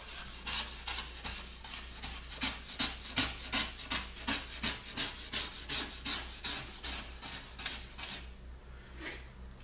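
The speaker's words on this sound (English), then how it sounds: "use your razor blade scraper and just go ahead and scrape off any kind of built up grease" A razor blade scraper scraping built-up grease off a glass cooktop in a steady series of short rasping strokes, close and fairly quiet, about two per second.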